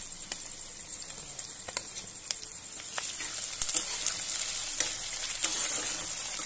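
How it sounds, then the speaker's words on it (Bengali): Ginger paste frying with onions in a pan, a steady soft sizzle with scattered crackles and light scraping, growing slightly louder partway through. "আদা বাটাটাকেও ভালো করে একটু ভেজে নিতে হবে।"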